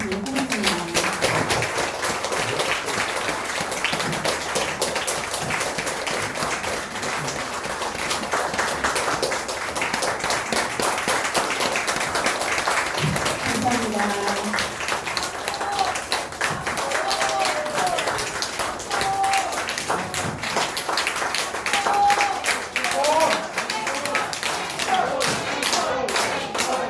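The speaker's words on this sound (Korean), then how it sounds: "함께 인사 큰 박수 부탁드리도록 하겠습니다." Long applause from a concert hall audience for clarinet and double bass performers, steady crowded clapping with tapping and thumps mixed in and voices talking underneath throughout.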